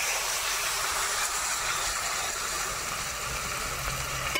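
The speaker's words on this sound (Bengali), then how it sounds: "ঝোলটা সুন্দর ফুটে গিয়েছে" Fish curry gravy boils hard in a pan, a steady close-up hiss and bubbling roar that holds at an even loudness throughout with no pauses.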